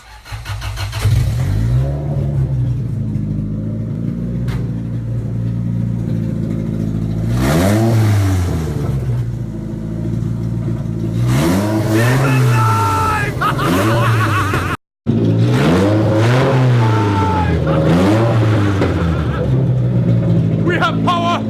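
A Toyota 3SGE BEAMS engine fitted in a Lexus IS300 starts for the first time, then revs repeatedly in loud rising and falling sweeps with a brief cut partway through, while people talk nearby.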